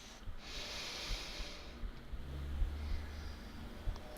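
A slow, deep breath drawn during a yoga session for upper back and neck tension, a soft airy hiss rising and fading over a few seconds, quiet and close with no talking.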